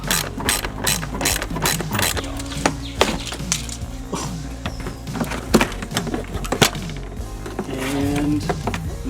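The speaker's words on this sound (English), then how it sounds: "So I'm basically just wrenching it off." A ratchet wrench clicks rapidly and repeatedly while working loose a plastic undertray panel beneath a Mazda Miata, close and loud, in steady bursts with brief pauses.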